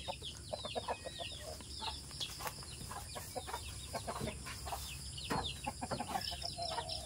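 Rhode Island roosters and hens cluck and call in a rural coconut grove in the Philippine province, with repeated short calls at a moderate distance over steady insect and outdoor background noise.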